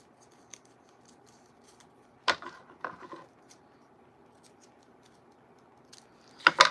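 Scissors cutting off the lip of a piece of paper, a few short, sharp snips spaced apart in a quiet room, close and crisp with no talking.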